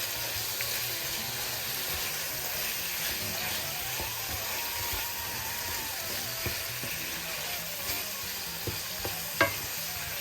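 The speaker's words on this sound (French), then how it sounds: "Je mélange bien." Pork and small vegetables for a satay sizzle steadily in a pan while being stirred, a continuous frying hiss broken by occasional utensil scrapes and taps.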